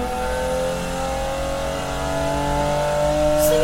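A C-Class car in a racing video game accelerates hard, its engine whining steadily higher in pitch, loud and continuous from start to finish.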